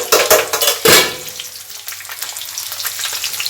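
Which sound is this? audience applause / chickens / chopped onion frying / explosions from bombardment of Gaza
chopped onion frying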